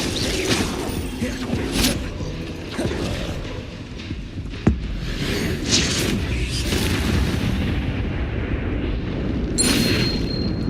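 An explosive Confringo spell in the video game Hogwarts Legacy booms amid ongoing combat rumble, with one sharp blast near the middle and other muffled detonations around it.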